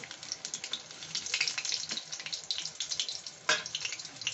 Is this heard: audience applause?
no